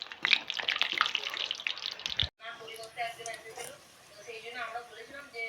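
Egg chops frying in hot oil give a loud, steady sizzling hiss for about two seconds. After a sudden break, a softer sizzle continues beneath a person talking.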